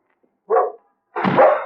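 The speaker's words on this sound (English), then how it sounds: "Poor old dog." A dog in a radio drama gives two close, short barks, the second louder and fuller, set against silence.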